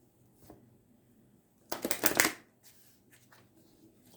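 Oracle cards are shuffled and split in one quick burst of riffling and shuffling, close and crisp, with quieter card handling before and after in near silence.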